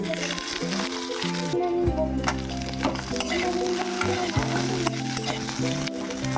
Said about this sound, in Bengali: দিয়ে দিলাম কড়াইতে তেল, পাঁচফোড়ন, লঙ্কা